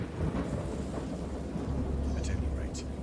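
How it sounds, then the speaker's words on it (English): A raging thunderstorm with heavy rain serves as a sound effect in a horror audiobook: a constant loud hiss of downpour with deep rumbling thunder rolling underneath, steady throughout. "I know that I heard peals of thunder and other tones which nature utters only in her wildest moods"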